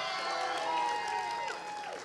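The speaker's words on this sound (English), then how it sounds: "As I say them, I want you to get excited and cheer for them" An audience at a church's 40th anniversary event cheers and applauds together, a dense sustained wash of clapping and whoops at close range with scattered voices rising through it.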